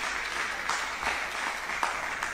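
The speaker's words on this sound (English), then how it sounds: "Let's give up for them a round of applause as they take their seat" A quiz audience applauds steadily, a dense patter of many hands clapping at a moderate distance without a break.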